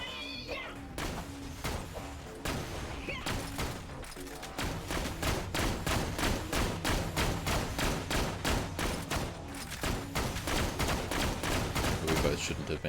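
Rapid, repeated video game gunfire rattles out as a steady, loud stream of shots after a brief quieter opening, with some voice faintly underneath.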